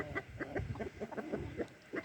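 A hen that was recently brooding clucks in short, irregular bursts close by, with a few soft calls from other fowl in the background and no talking.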